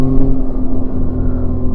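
A 2025 Yamaha Tracer 9 GT motorcycle in sport mode on twisty mountain roads gives a steady, loud engine drone with a smooth, even hum throughout, and no voices over it.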